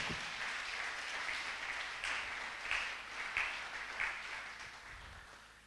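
A church congregation applauds during worship, soft steady clapping with a few louder swells, heard from a distance and slowly fading toward the end.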